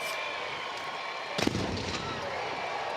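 A celebratory cannon fired at a college softball stadium after a run, heard as a single sharp boom that rolls out against a steady crowd and broadcast background.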